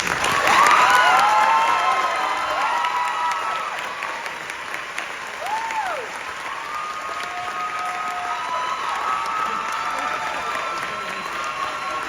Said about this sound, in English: Let's give a big round of applause for our salutatorian, Miss Jazzy Richardson